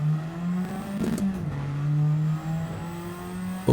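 A turbocharged car in Gran Turismo 7 revs through its gears, the steady engine drone climbing and dropping in pitch with brief shifts, close and loud with no talk.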